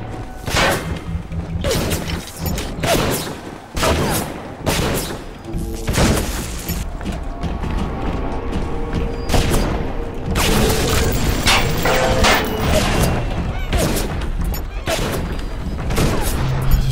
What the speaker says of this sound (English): looks like this one has a rivet gun